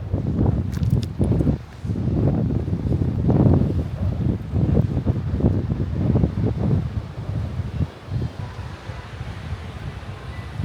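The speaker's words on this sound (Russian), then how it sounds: "А вот и сам пляж и Атлантический океан." Steady wind buffeting the microphone over low rushing surf on a sand-and-pebble Tenerife beach facing the Atlantic Ocean, with broad swells of noise rising and falling continuously and no voices.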